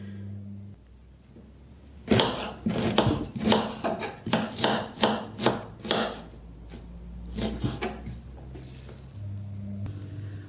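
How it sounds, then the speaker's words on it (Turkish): A knife chops onions steadily on a board, a run of about a dozen sharp, evenly spaced cuts, then a few slower ones, close and clear with no talking. "lahanamız soğurken biz de soğanlarımızı doğrayalım"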